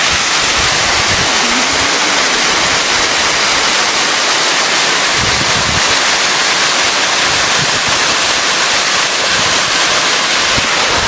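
Pinsal Falls in Pangasinan, Philippines roars as a loud, continuous wash of falling water, steady and close with wind buffeting the microphone.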